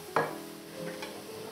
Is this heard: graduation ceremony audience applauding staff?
no